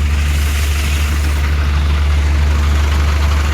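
A farm tractor idles close by with a loud, steady, deep throbbing rumble, continuous and unchanging with no voices.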